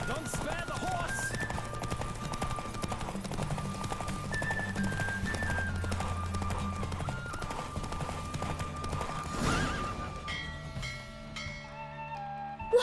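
Rapid hoofbeats from a horse galloping in The Witcher 3 drum steadily and close against game music, then fade out as the ride ends near the close.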